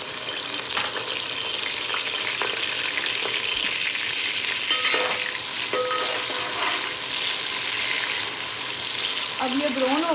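Chopped medium-size onions sizzle loudly in hot ghee in a pot, a steady broadband hiss with occasional stirring clinks, and a brief voice near the end.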